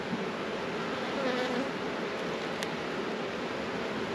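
Bees at an opened hive on a farm make a dense, steady, close buzz that fills the whole stretch, with a faint higher whine drifting through and one brief click.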